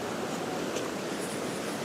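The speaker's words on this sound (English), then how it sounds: "the waves are starting to come over the breakwater" Surf breaks over the breakwater at Perch Rock Lighthouse as a steady, close wash of rushing water and wind noise, with no distinct individual crashes.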